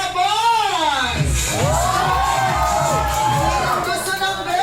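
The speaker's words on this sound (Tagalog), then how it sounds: "Parinig ang sigawan ng para sa boss!" A crowd of family and guests cheers and shouts loudly at a gender reveal party, children's voices and excited yelling rising in wavering swells close by over a thick babble of voices.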